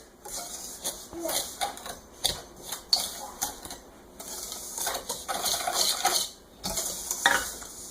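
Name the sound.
mixing brown sugar, cornstarch and salt in a bowl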